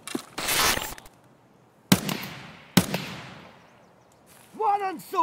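Gunshots ring out from a bunker above in the game Escape From Tarkov: a loud burst followed by two sharp single cracks with long decaying echoes, then a voice speaks.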